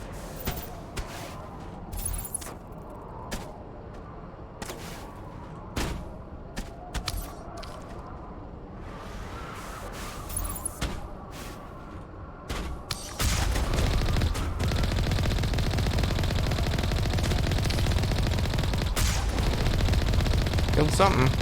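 Gunfire in Mass Effect Legendary Edition, scattered sharp shots early on, then a dense, loud sustained burst of weapon fire and combat noise filling the second half.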